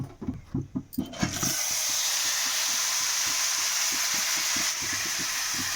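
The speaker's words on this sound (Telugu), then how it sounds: "ఇప్పుడు ఆ పచ్చడి అనేది దీంట్లో వేసి ఒక 2 సెకండ్స్ మగ్గనిద్దాం." Cucumber chutney hits a hot pan of sizzled tempering, cutting off a few soft crackling pops with a sudden loud hiss that then holds steady and strong.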